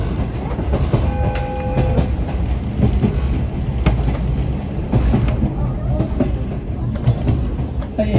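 An Oigawa Railway main line train rumbles across the Shiogo suspension bridge on a cold day, with steady rolling clatter and wheel noise heard from inside the carriage, a guide's voice talking faintly over it.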